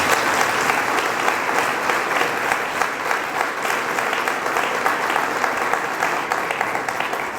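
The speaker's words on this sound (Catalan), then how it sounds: "Un fort aplaudiment, per favor." Loud, sustained applause from an indoor audience at a festival presentation event, a dense, even wash of many hands clapping that continues without a break and has no clear voices over it.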